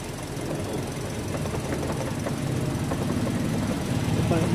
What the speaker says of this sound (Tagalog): naka-start itong makina tapos pinunukan ng tubig itong radiator, na habang naka-start yan, may narinig akong vibration